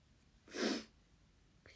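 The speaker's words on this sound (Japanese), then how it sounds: "くしゃみが。" One short, breathy sneeze from a woman, close and fairly quiet, over a faint background hiss.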